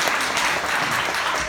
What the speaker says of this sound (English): let's give a round of applause to Daniel